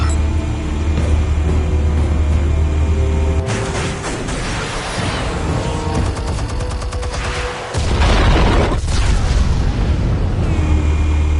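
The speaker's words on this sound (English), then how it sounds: "Explosives armed. Fire when ready." Explosives detonating in Batman: The Telltale Series, heavy booming blasts over a dense rumbling low end, with a brief drop in the roar midway before another loud surge of explosions.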